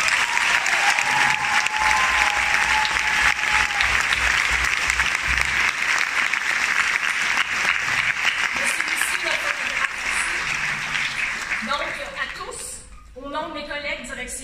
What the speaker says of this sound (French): Donc, j'apprécierais qu'on les applaudisse.